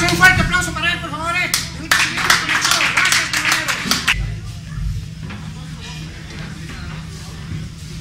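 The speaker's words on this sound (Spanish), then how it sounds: "un fuerte aplauso para él, por favor" A live show audience breaks into applause for a guest, a burst of dense clapping that rises and then fades away after a few seconds, heard together with voices and background sound from the stage.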